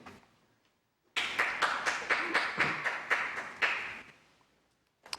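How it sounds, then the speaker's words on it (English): Applause at a city Board of Aldermen meeting: a few people clapping for about three seconds in a quiet room, a sparse, uneven patter that starts abruptly and tapers off. "Thank you, Mary Jane, for the applause"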